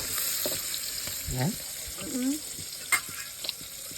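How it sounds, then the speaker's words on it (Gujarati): Dhokla made with bottle gourd being tempered in hot oil gives a steady, close sizzling hiss with stirring clatter, and a voice speaks briefly over it. "ઢોકળા બનાવ્યા છે મમ્મી, મસ્ત મજાના વઘારે છે."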